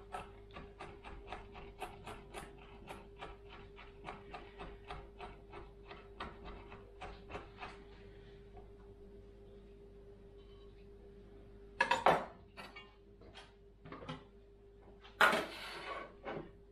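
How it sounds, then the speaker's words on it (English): Garlic cloves rough chopped with a knife on a board, a rapid run of close, crisp chopping taps for several seconds, then a pause and a few louder, sharper knocks and scrapes near the end. "I'm going to rough chop them first and then run my knife through."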